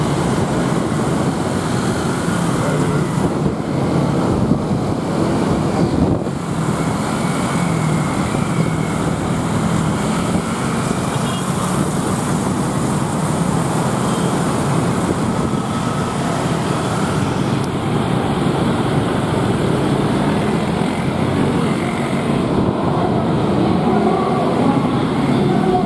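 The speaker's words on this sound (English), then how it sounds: "Noise of all those bikes" Dense Bangkok street traffic with many motorbikes, a steady close roar of engines and road noise throughout, no voices.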